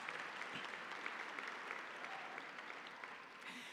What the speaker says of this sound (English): Yes, that's worth an applause.